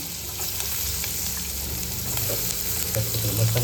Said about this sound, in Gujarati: કાંદા નાખીએ વઘારમાં